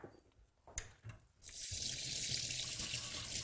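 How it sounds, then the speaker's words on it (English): Cold tap water runs onto red lentils in a fine metal sieve, starting after a few soft knocks and clinks and then holding as a loud, steady rushing splash to the end. "Just rinse them under cold water."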